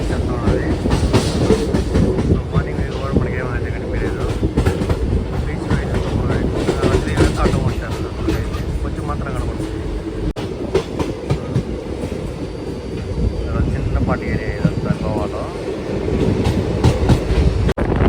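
From inside a general-class coach on the Hyderabad to Goa line, a moving train gives a continuous rumble with rhythmic clickety-clack over the rails, with faint voices mixed into the steady roar.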